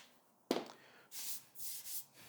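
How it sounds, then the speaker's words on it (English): A sharp knock followed by several scratchy strokes of sandpaper rubbed by hand, three rhythmic passes close to the microphone. "Sanding nice and lightly."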